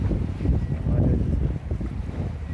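Wind buffets a sailboat running downwind through a channel off Eleuthera in the Bahamas, a steady low roar of gusts and microphone wind noise with water and hull movement beneath, no talking.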